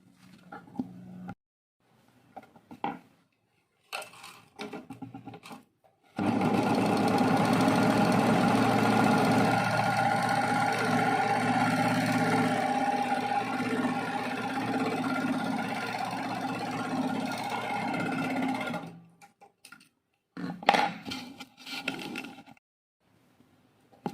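A sewing machine runs a steady, continuous motor whir while stitching a dress sleeve, lasting about thirteen seconds between quieter stretches of handling noise before and after.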